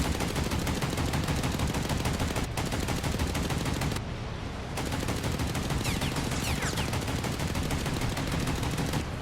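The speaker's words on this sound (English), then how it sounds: "We're right back here with the 20 millimeters blasting away." Rapid continuous bursts of 20 mm anti-aircraft guns blast from a heavy cruiser in the Task Force Admiral naval combat game, loud dense automatic fire with only a brief lull.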